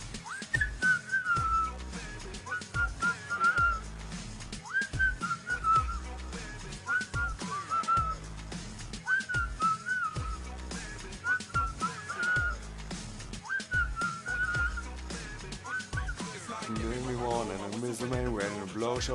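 A person whistles a repeated melodic phrase from a song in a parody performance, the whistled notes loud and close in a steady rhythmic pattern over a backing beat.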